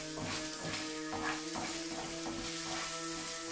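Food frying in a pan seasoned with khmeli-suneli, being stirred: a steady close sizzle with soft scraping of the utensil through the pan, continuous for the whole stretch without talk.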